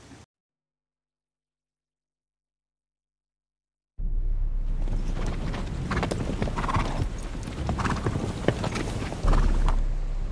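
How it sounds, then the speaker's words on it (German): Horses' hooves clip-clop in a period film scene, with a horse whinnying; the sound starts after a few seconds of silence, then runs loud and steady with busy hoof strikes and movement, close by. "Gehören die Pferde euch?"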